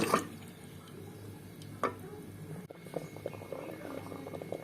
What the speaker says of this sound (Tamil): கொதி வந்துகிட்டே இருக்கு.